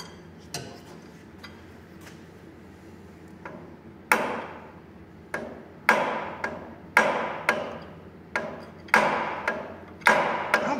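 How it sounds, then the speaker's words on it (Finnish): Sharp hammer blows ring out on metal while working on a Valmet diesel engine, sparse and light at first, then a steady series of louder metallic strikes about once a second. "hienosäätä vasaraa."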